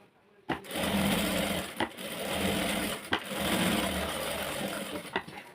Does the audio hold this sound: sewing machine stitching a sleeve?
yes